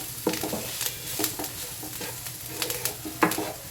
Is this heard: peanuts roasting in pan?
yes